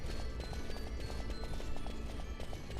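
Galloping hooves of demon horses in the Final Fantasy XII video game, a steady, busy clip-clop rhythm that carries loudly through the whole stretch alongside game sounds.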